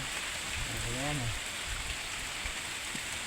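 Steady rain pours down during a team outing, a dense wash of falling water filling the whole stretch, with a brief voice rising over it near the start and a few faint knocks beneath.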